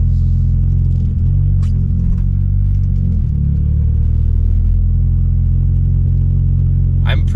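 A Toyota GR86 driving with its synthesized engine sound piped into the cabin, a loud steady low droning rumble with faint clicks and a brief rattle near the end.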